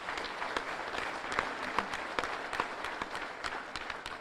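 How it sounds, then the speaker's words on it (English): Applause from an audience at the Louisiana governor's State of the State address in Monroe, a steady, moderately faint patter of many hands with scattered sharper claps, continuous throughout without talk. "Y'all should give them a round of applause"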